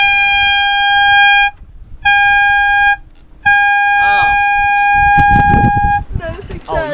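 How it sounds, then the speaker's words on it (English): Power air horn blown in long, loud blasts with short gaps to drive off booby birds at sea, steady tones broken by silences, then shouting voices over the final seconds. "we have the power air horn"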